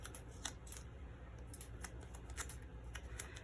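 Scissors snip paper for a junk journal cover in a steady run of quick, close cuts, each a short crisp click over a low background hum.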